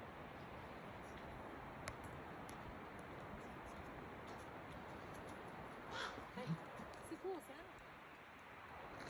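A few odd, croaking raven calls sound at a distance over steady outdoor hiss, with talking in the background.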